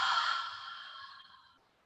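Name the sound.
breath exhaled out through the mouth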